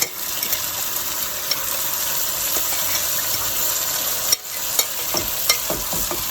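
Oxtail sizzles and sears loudly in a hot pot with seasoning, a constant crackling hiss with a few clinks and stirring scrapes.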